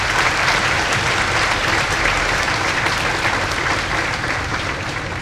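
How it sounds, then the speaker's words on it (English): A high school graduating class applauds its invited educators at a 2016 graduation ceremony, loud sustained crowd clapping that fills the whole span and eases slightly toward the end. "give them a round of applause for all they've done for you"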